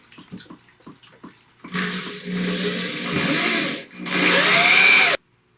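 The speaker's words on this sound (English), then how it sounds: "And so I'll just screw in some screws." A power driver sinks screws through a sister board into a damaged floor joist: light knocks and handling first, then two sustained whirring, grinding bursts that rise in pitch, close and loud, stopping abruptly.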